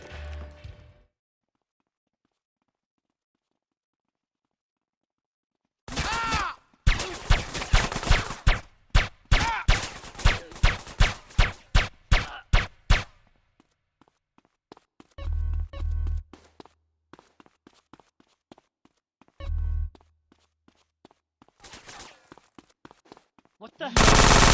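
Gunfire in GTA San Andreas: loud bursts of rapid automatic shots and single cracks come in clusters separated by silences, with a few voice shouts between them.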